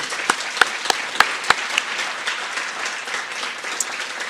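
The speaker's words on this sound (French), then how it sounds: "Alors, je pense qu'on peut l'applaudir." An audience at an academic colloquium's welcome session applauds briefly, with a few louder individual claps standing out early in a moderate, even patter of clapping.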